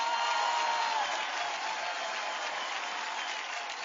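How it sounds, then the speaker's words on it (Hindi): Sustained audience applause, a dense even wash of many hands clapping at once, continuing steadily at moderate volume from start to finish. "एक बार जोरदार तालियां इनके लिए"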